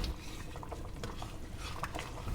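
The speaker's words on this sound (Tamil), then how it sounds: "இப்போ பாருங்கள், நல்லா கொதிக்குது" Soft, steady bubbling of a pot of mutton dum biryani at a rolling boil, quiet and close, with faint clinks now and then.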